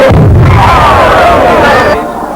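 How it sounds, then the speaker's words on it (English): Ceremonial cannon fired at the opening of the Mooney Mooney Bridge in 1986, a loud boom with a rolling rumble under crowd noise and cheering that fades after about two seconds. "the Prime Minister unveiled the plaque and was moved by the firing of a cannon"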